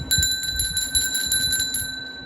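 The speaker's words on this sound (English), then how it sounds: "this antique brass bell, and it says on the front here somewhere, it says India" An antique brass bell from India rings with sustained, clear overtones over a short span, repeatedly struck or shaken, close and moderately loud.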